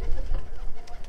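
Abdal Arab tumbler pigeons, a Konya breed of flying birds, coo in low soft throaty phrases close by, repeating over a murmur of background noise and faint voices.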